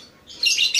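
A songbird calling in a minor tone, a short bright chirping phrase that starts faint and rises to a louder, close burst of high notes, heard alone.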